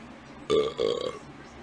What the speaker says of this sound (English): Whoa, there was the burp.